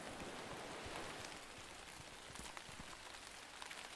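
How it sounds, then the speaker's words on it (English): Steady rain falling in the survival video game Railgods of Hysterra, a dense, even hiss of drops with scattered sharper patters, constant and fairly close with no talk. "It's raining."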